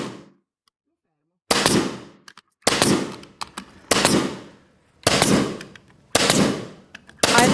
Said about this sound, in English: Now, with the staple gun,